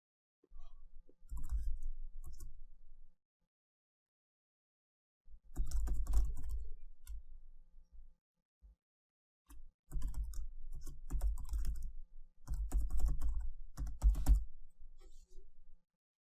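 Typing on a computer keyboard to enter admin credentials: several bursts of quick, close key clicks separated by pauses of silence, fairly soft and with no talk over them.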